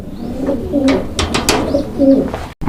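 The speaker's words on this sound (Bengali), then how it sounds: "এখানে চমৎকার আরও এক কবুতরের কালেকশন রয়েছে" Fancy pigeons at a pigeon seller's collection coo close by, with rolling, throaty calls repeating and overlapping among several birds, loud and clear with no talk.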